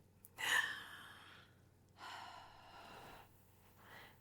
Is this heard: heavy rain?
no